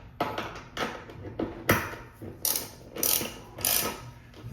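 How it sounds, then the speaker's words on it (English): An 11 mm wrench tightening the nut on a toilet bolt, a quick series of close ratcheting clicks in short irregular bursts. "So I got an 11mm wrench,"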